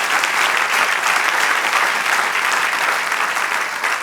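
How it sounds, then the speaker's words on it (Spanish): A church congregation claps together in praise at a worship service, a dense and loud round of applause holding steady from start to finish with no break. "Den un aplauso al Señor."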